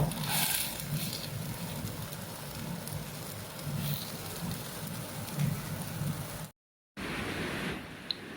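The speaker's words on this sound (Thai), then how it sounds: "ฝนตกแรงมาก" Heavy rain pours down in a dense, steady hiss with a low rumbling undertone, continuous apart from a brief gap near the end, near a salad greenhouse.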